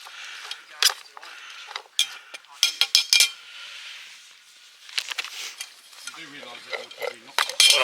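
A spoon scrapes and clinks against a pan as onions are stirred while cooking outdoors in an ancient woodland. Sharp irregular metallic taps and scrapes stand out against near silence, and a voice briefly murmurs near the end.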